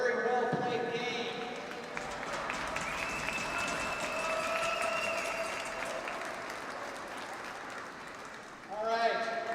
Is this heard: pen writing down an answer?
no